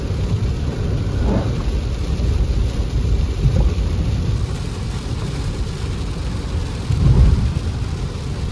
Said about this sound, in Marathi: जास्त पाऊस चालू आहे. गाडीमुळे जाणवत नाहीये, पण पावसाची स्पीड खूप जास्त आहे.